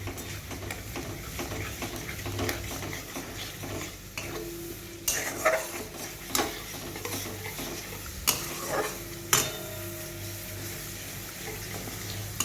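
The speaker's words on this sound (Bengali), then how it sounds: "এই দইয়ের এই মশলাটা দিয়ে দেবো। ভালো করে মিশিয়ে দেব।" Curd-based spice masala being stirred and fried in a pan for a vegetarian potol dish: a quiet sizzle with intermittent scraping and clinking of the spoon against the pan, louder in the second half.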